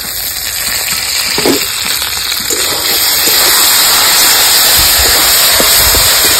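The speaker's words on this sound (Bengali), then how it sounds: "চাপা দিয়ে মশলাটা সুন্দর করে কষিয়ে নেব" Spice masala for mutton curry cooking down in a village kitchen, a loud continuous frying hiss with bubbling and occasional spatters, stirred now and then, with a steady tonal hum running throughout.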